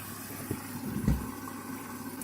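Water runs into the drum of a Candy washing machine as it fills, a low steady gurgling trickle with a couple of soft splashes, heard up close and alone.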